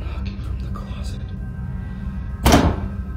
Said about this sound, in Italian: All'inizio si sente bussare dalla porta del suo armadio.